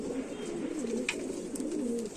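Close, continuous low cooing from a group of Indian Rampuri pigeons, soft rolling calls overlapping without pause, no voices present.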